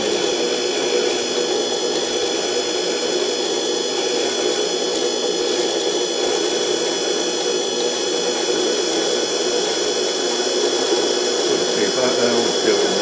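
A woodturning lathe whirs steadily while a tool held on its edge planes the spinning wood, giving a continuous even whine and hiss throughout.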